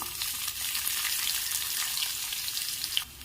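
Crushed garlic, dried red chillies, curry leaves and salt fry in hot oil as a tempering for moong dal rasam, with a close, steady, crackling sizzle and a single clink near the end.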